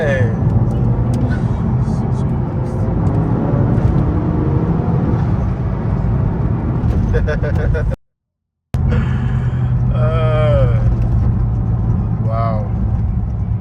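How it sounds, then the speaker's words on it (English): A modified 410whp Honda Accord drives fast with a loud, continuous engine and road roar that rises and falls. Voices shout over it, then after a brief dropout the roar returns with whining engine tones sweeping upward. "I never thought an Accord could be this fast."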